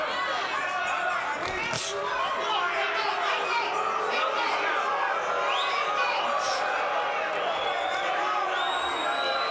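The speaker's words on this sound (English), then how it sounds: "And the crowd here is kind of feeling restless." The crowd at a boxing match murmurs and chatters restlessly, with scattered shouts and whoops. The babble is steady and sits at a moderate distance throughout the clip.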